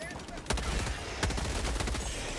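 Loud rapid gunfire from a weapon in the video game Helldivers 2, near and sustained, with sharp bursts around the half-second mark and again a little past a second, over a dense chaotic din.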